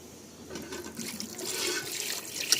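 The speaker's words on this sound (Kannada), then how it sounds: "ಸ್ವಲ್ಪ ಹಿಂದಕ್ಕೆ ಸ್ವಲ್ಪ ನೀರು ಹಾಕ್ಬೇಕು." Water is poured and splashes during washing at a family gathering, a soft running, splattering sound close by that grows slightly louder before ending.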